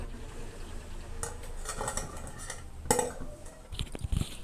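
Deep-fried crispy potato balls for aloo 65 are lifted from the oil and dropped onto a plate, giving close metallic clinks and clatters of a utensil against cookware with a faint sizzle underneath.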